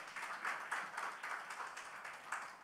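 A crowd at a college prize-giving day and annual lecture claps in a steady, fairly faint patter of applause, heard from a distance without talk over it.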